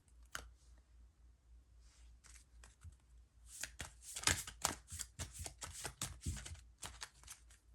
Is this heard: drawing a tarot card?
yes